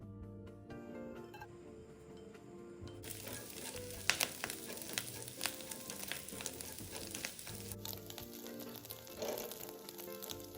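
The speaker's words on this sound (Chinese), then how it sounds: "在炉里头倒入约2大匙食用油，将备好的虾米末倒入爆香" Minced dried shrimp fry in about two tablespoons of oil in a pan over medium heat, giving a close, continuous sizzle and crackle that grows busier and denser partway through, while faint music plays underneath.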